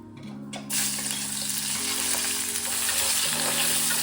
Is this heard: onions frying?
yes